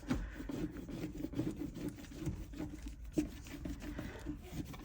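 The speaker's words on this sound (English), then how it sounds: "And I'm just going to get my squeegee. So I'm going to just give this a good rub down now." A squeegee rubs firmly back and forth over a DTF sticker laid on a resin tray, producing a continuous quiet scraping and rubbing texture, close up with no talk.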